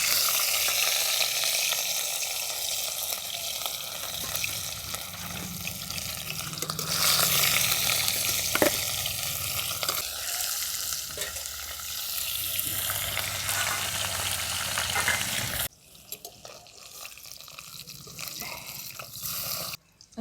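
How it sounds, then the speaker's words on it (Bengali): Rohu fish pieces rubbed with salt and turmeric fry in hot mustard oil in a kadai, giving a loud, continuous close-up sizzle that shifts and softens in the last few seconds, with no voices. "প্রথমে মাছগুলো ভেজে নেবো। তো তেলটা গরম হয়ে গেছে, এরপর আমি দিয়ে দিচ্ছি নুন হলুদ মাখিয়ে রাখা মাছগুলো।"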